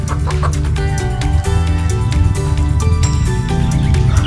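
A backyard flock of chickens and chicks clucks and peeps continuously, with many overlapping calls forming a loud, steady chorus close by.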